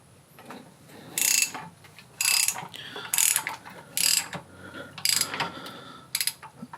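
A socket ratchet with a doubled extension turns the crankshaft of a Toyota 2JZ-GE engine in an IS300, giving six bursts of bright ratcheting clicks spaced about a second apart, close and clear with no talking.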